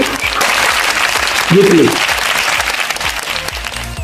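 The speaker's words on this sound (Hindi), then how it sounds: "जोरदार तालियों के साथ" Loud applause from an audience at a stage honoring ceremony, dense and sustained clapping, with a brief spoken voice over it.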